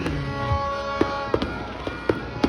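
Fireworks over San Juan City on New Year's Day: a run of sharp, separate bangs about every half second, heard from some distance over a steady crowd and music murmur.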